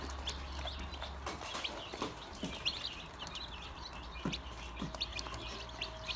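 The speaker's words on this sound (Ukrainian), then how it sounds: "Ось такі наші курчата." Faint chirping of young Amrox and Bielefelder chicks, steady and continuous, mixed with soft farmyard clucks and background hum.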